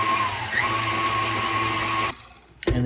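An electric hand mixer whirs steadily through cake batter made with flour and milk, a loud close motor drone that cuts off near the end, followed by a brief clunk.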